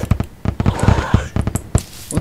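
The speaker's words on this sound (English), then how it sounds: "Fireworks!" Terraria video game fireworks going off in a quick, loud burst of close crackling pops and bangs spread over a couple of seconds.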